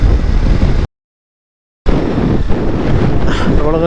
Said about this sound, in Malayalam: കാറ്റ് കാരണം ഓടിക്കാൻ പറ്റുന്നില്ല.